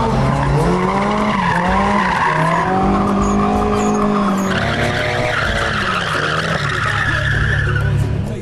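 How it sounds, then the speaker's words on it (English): Drift cars at an auto show exhibition scream around in circles, with tires squealing and skidding continuously and engines roaring under the loud, unbroken wail. "these guys could control their cars in moving in circles and drifting"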